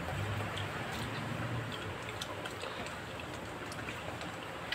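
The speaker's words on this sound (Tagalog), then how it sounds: "Ulan." Steady rain falls outdoors at night, a dense, even hiss with soft scattered drips and taps, continuous and fairly loud with no voices.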